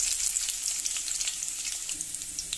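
Garlic and dried red chillies fry in hot oil with popped mustard seeds for a Chettinad ridge gourd poriyal, a steady, close, bright sizzle with fine crackles and no talking.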